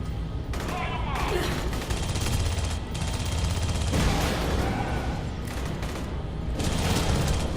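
Gunfire in the Aliens: Colonial Marines video game, dense sustained bursts of automatic weapon fire over a busy game soundscape, continuous and loud with brief lulls, and a voice speaking through part of it.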